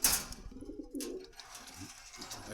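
Pigeons coo softly in their cages at a Dhaka pigeon market, soft low calls that repeat and overlap beside faint market noise.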